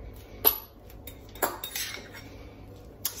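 A utensil stirs and mushes a microwaved keto pizza dough mixture in a bowl, giving a few sharp scraping clinks of metal on the bowl with quiet gaps between them.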